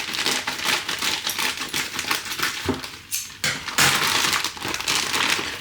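Scissors snip and crinkle through plastic packaging around a lamb shoulder in a kitchen, a close, busy run of crisp cuts and rustles with a short pause midway.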